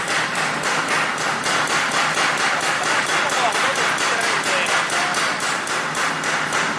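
Rapid, steady mechanical hammering from a belt-driven forging hammer in a kitchen knife workshop in Sanjo, Niigata, loud and continuous, striking in a fast even rhythm throughout.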